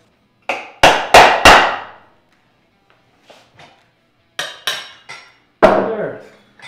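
Hammer blows on a small driver knocking a wheel axle spacer out of a motorcycle wheel, a quick burst of four loud, close metallic strikes, then quiet taps and a few more hits ending in a ringing clank.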